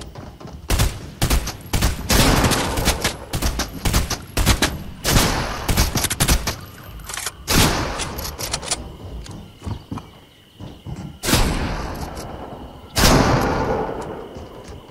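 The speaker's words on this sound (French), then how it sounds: "nous allons voir ensemble réussir des tirs dans la tête sur les cibles situées en dessous de vous" Repeated gunshots from Fortnite as a player fires at targets below, sharp loud bursts in irregular clusters with short pauses between volleys.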